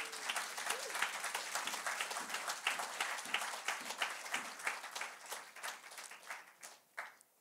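A church congregation applauds during a worship service, dense sustained clapping from many hands that thins out toward the end, with faint voices mixed in.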